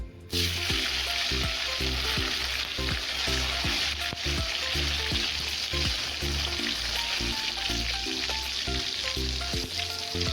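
Chopped tomatoes fry in hot oil with whole garam masala and cumin, a loud, steady sizzle running without pause, with repeated scraping strokes of a spoon stirring the pan.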